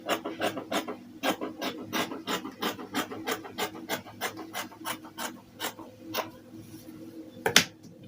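Fabric being trimmed while sewing a shirt: a quick, steady run of rasping scissor cuts, close and clear, with a louder snip near the end.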